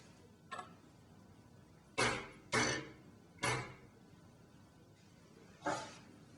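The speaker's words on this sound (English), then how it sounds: "Tap in the bottom plate to ensure all gas pressure has been discharged." Someone taps on the bottom plate of a gas-pressurized unit to make sure all pressure is discharged, giving five sharp, fairly quiet metallic taps at irregular intervals with stillness between them.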